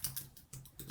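Typing on a computer keyboard, three or four quick, soft key clicks close by within under a second, with no voices.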